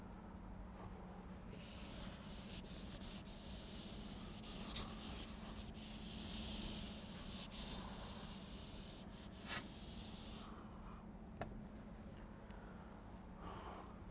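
Soft, scratchy rubbing of a cloth or duster wiping equations off a board during a physics lecture, in uneven strokes with short pauses, faint over a low room hum.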